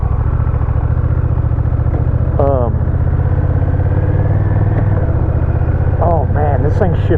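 Honda Rebel 1100 single overhead cam twin engine under way, a steady loud mid-low drone running throughout with brief rising whines as gears shift, a voice talking over it.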